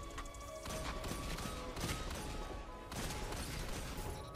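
Hand cannon gunfire in a Destiny 2 Crucible PvP match, a dense run of loud, sharp shots and impacts layered over continuous game noise, with no talking heard.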